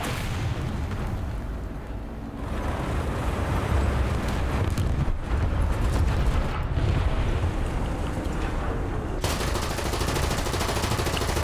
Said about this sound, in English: If he goes this way, I can machine gun him out.